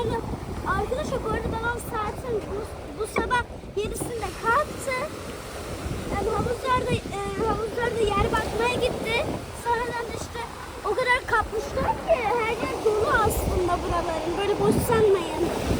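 Surf rolls and washes steadily onto a sandy, fine-pebble beach in Antalya, Turkey, under gusty wind, while people talk nearby over the continuous roar of waves.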